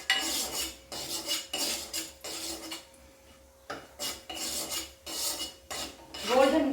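Cashews for moong dal halwa are roasted in a pan, stirred with a metal spoon that scrapes and rasps in repeated strokes with short pauses between, close and clear.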